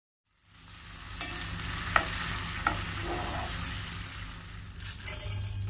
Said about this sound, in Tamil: இறாலை ஆட் பண்ணி ஒரு 5லேருந்து 6 நிமிஷம் நல்லா வதக்கி எடுத்துக்கோங்க